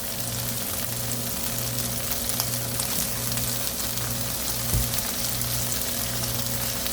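Cicadas stir-frying in a pan, seasoned with fish sauce and white pepper, give a steady, even sizzle that runs without pause, with a faint low hum underneath.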